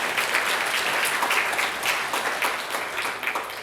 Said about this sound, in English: I think Emma really deserves a round of applause with the Social Inclusion Matters sign.